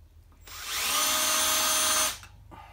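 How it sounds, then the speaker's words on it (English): A power drill cuts a countersink into an ABS pipe bracket in a workshop, with one steady, loud whine lasting about a second and a half that then stops. "I'd like to run a countersink in it"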